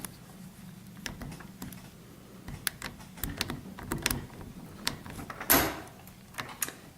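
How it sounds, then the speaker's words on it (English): Lock pick rake scraping and clicking against the tumblers of a padlock cylinder, faint irregular metallic ticks and rattles with a sharper snap near the middle, close and quiet. "I'm going to insert the rake into the top portion of that cylinder, and I'm going to rake it against the tumblers."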